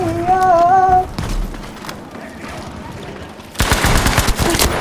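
Gunfire in the video game Battlefield V: a steady electronic tone gives way to a quieter stretch, then a loud, dense volley of rapid shots closes out the final second.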